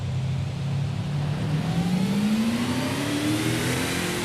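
A rear-wheel-drive car in the Forza Horizon 5 racing game revs its engine, the pitch rising steadily into a loud, continuous mechanical drone with no voices over it.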